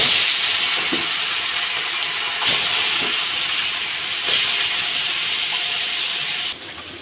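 Bata fish sizzles in hot oil in a wok: a loud, close, steady hiss that surges in sharp bursts at a few moments, then drops slightly near the end.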